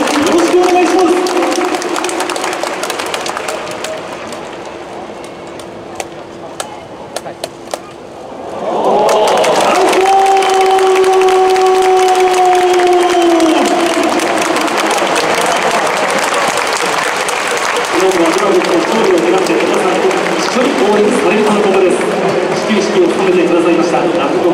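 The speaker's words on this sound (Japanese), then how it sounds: "立川志らくさんに今一度大きな拍手をお送りください。" A stadium crowd at a Chunichi versus Hanshin baseball game applauds. Murmur swells around nine seconds into a loud, sustained roar of clapping and cheering that holds to the end, with a voice over the public address beneath it.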